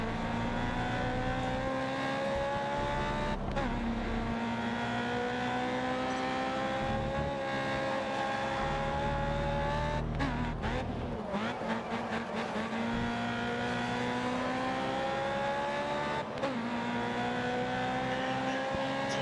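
Race car engines in GRID Autosport scream steadily at high revs, climbing and dropping through gear changes, with a few sharp shifts and tyre noise along a long straight, loud and continuous with no talking.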